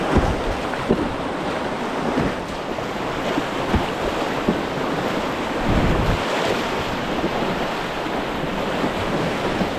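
Cold Nantahala river water released from a dam, rushing in a steady broadband wash that stays loud and continuous throughout, with a few small splashes and some wind buffeting the microphone.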